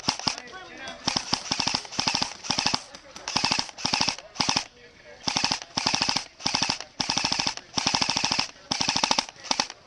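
Airsoft guns spraying cover fire at an outdoor airsoft field, repeated loud bursts of rapid full-auto clatter with short pauses between them, close by, with people talking faintly in between.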